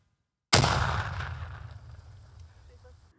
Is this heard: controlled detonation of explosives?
yes